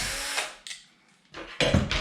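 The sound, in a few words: power tool removing bolts from Kraken VESLA rear hinge pin brace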